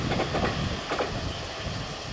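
A train rumbles past with a broad, steady roar and faint rhythmic clatter along a scenic rail line in Qingshui, Taiwan, heard briefly and at moderate loudness.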